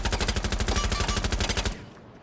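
Automatic gunfire in the video game Rainbow Six Siege, a rapid, evenly spaced burst of loud shots fired with iron sights that stops abruptly, leaving a short fading tail.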